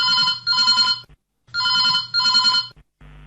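A telephone rings for a phone-in call on Akola FM 102.4 radio: two loud, clear double-burst rings separated by a short silence, ending with a brief click as the line picks up.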